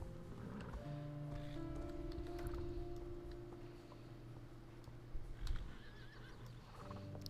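Horse in the video game Star Stable, a whinny with sustained tonal calls and a faint clip-clop, over steady background game music.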